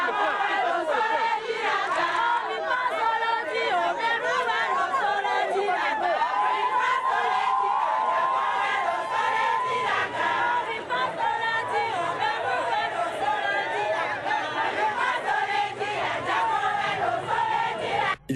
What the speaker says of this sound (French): la population de Lokossa, notamment des femmes et conducteurs de taxi-moto, lui ont réservé un chaleureux bain de foule